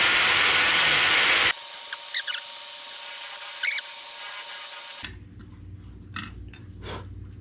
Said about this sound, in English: Started drilling through the stand.